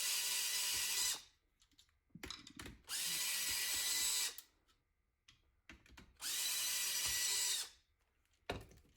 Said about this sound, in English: I'm taking a 5/16 socket and I'm unscrewing the bolts on the back